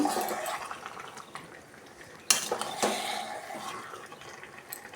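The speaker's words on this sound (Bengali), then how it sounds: "এবার আমি ভালো করে নেড়ে নেব মাংসগুলোকে" Desi chicken pieces stirred in a metal pot, scattered clinks and scrapes of a spoon against the pot with a sharper clatter midway, fairly quiet and close, no voices.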